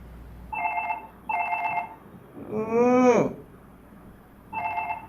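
A telephone rings in a drama scene with three short electronic trill bursts, interrupted midway by a brief crying-like vocal sound, fairly close and clear.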